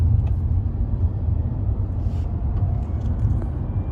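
A 2022 Tata Nexon EV Max electric car pulls away in city drive mode, heard as a loud, steady low rumble of road and drivetrain noise with no voices.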